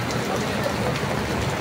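Steady rain pouring onto a street in Santa Cruz, Ongpin, Manila, a dense continuous hiss with no pauses, loud and close.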